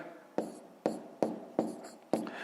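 Hand-writing numbers during a fifth-grade math multiplication exercise: five distinct, evenly spaced strokes of pen or pencil on paper, close and clear with no talk.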